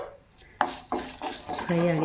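A spoon scrapes and clinks against a metal pan as cumin, dried chillies and curry leaves are stirred while frying, several distinct metallic strokes rising in loudness.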